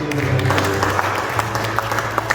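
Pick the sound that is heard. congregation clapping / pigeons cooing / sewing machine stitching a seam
congregation clapping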